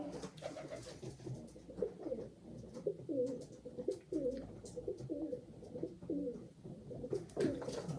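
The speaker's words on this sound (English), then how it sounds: "You can hear the pigeons" Pigeons coo steadily at moderate distance, a repeated low burbling rhythm running through the whole stretch with no talk over it.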